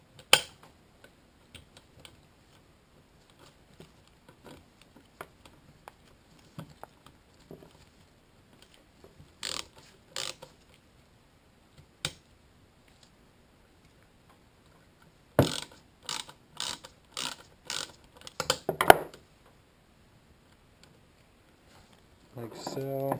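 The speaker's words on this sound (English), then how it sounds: "Then use 10mm socket." A ratchet with a 10mm socket works on a Kawasaki ZX10R engine, sparse faint clicks followed by a quick run of sharp ratcheting clicks, then quiet.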